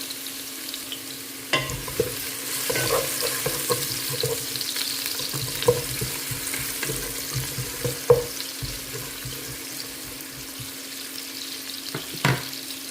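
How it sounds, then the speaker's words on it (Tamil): Chopped onions sauté in hot oil in a kitchen pan, with a soft steady sizzle and scattered clinks and scrapes of a spoon stirring them. The sound is fairly quiet and nearby, with no talk. "எண்ணெய் காஞ்சிருச்சு இப்போ வெங்காயம்"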